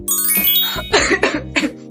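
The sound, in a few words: coughing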